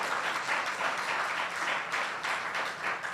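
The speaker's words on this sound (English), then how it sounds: "Please, let's have a round of applause for them" Steady applause from an audience at a bar association branch law week event, a dense, even patter of many hands heard from a distance at low level, with no voices over it.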